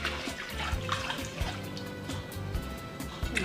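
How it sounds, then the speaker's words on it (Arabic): Cooking oil poured into a yeasted crêpe batter, a soft liquid splashing and dribbling against a low background hum, close and steady throughout with faint clinks. "باش نزيدو الزيت."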